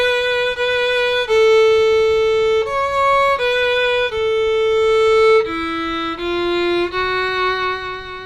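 A country fiddle melody phrase played alone on bowed strings, with clear sustained notes stepping through a simple tune, up close and steady in loudness.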